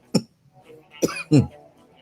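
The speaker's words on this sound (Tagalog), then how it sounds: "di ako naninigarilyo pero umuubo-ubo dahil kulang na ng tubig" Two or three short, dry coughs from a person close by, separated by brief pauses.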